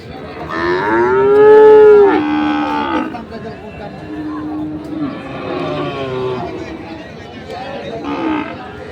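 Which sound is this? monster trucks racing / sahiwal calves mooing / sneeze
sahiwal calves mooing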